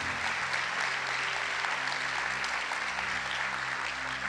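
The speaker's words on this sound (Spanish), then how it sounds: "Dan un fuerte aplauso a la palabra del Señor." Congregation applause in a church service, a continuous wash of many hands clapping at a steady, moderate level throughout, without speech.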